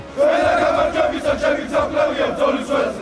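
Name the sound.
Georgian soldiers shouting battle cries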